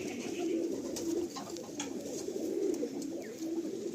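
Madrasi pigeons coo in low, steady rolling calls that overlap in a continuous murmur, fairly close and with no talk over them.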